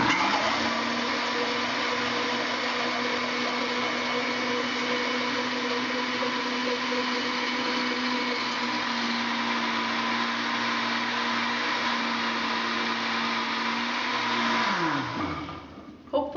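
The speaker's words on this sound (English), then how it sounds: "Hopefully you heard the change in the sound as it was blending" A blender runs continuously with a loud, steady whirring motor for about fifteen seconds, making ginger salad dressing as oil is poured in, its pitch dropping slightly before it winds down and stops.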